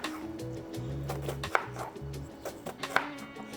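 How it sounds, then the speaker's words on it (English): A knife slices through an onion on a cutting board with a series of quick, crisp cuts in an uneven rhythm, close up and clear with no talking. "I just slice the onion that way"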